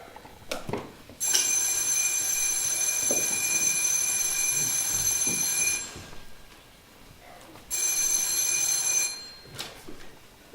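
A telephone bell rings in two long bursts separated by a short pause, fairly close in a quiet room, with a few soft knocks around it.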